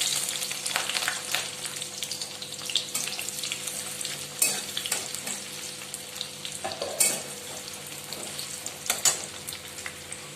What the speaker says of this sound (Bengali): এবার এই তেলটার মধ্যে আমি পেঁয়াজ কুচি দিয়ে দিচ্ছি।